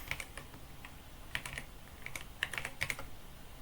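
Keys clack on a computer keyboard as router configuration commands are entered: scattered, irregular taps at close range, soft against a faint room hum, with no speech.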